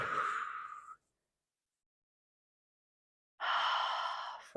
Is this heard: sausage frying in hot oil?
no